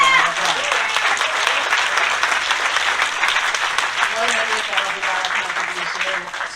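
Audience applause at a groundbreaking ceremony, dense and steady clapping that carries on throughout while a voice speaks faintly beneath it.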